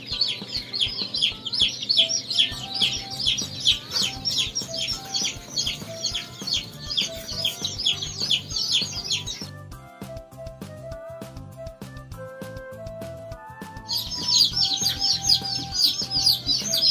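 Many newly hatched chicks chirp steadily inside an incubator as their feathers dry, a dense, high-pitched peeping that fills most of the clip, drops away for a few seconds under a low hum, then returns.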